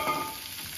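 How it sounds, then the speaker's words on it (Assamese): Ginger garlic paste fries in a pan, a steady soft sizzle with faint stirring, close and fairly quiet, no talking. "আদা ৰহুনৰ পেষ্ট ইয়াতে ভাজি দিয়া"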